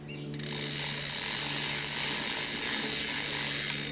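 A bicycle crank turned backward while lubing the chain, the freewheel giving a steady rapid ratcheting buzz, close and fairly loud, running continuously after a brief start.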